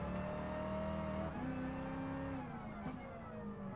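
Lamborghini Countach engine in the Gran Turismo Sport racing game, a loud, sustained buzzing drone that holds steady, then climbs and shifts in pitch as the car accelerates during a race.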